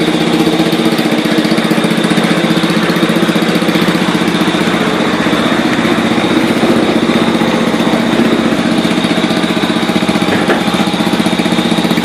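An 855 garden tractor engine runs steadily and loudly nearby, a constant chugging drone with no pauses or talk.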